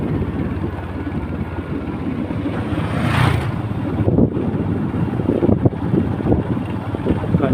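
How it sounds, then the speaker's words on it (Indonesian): A Yamaha Jupiter MX motorcycle on a test ride after an engine rebuild, its steady engine drone blended with heavy wind rush from riding, fairly loud and continuous. "Kita akan test drive setelah motor di servis besar."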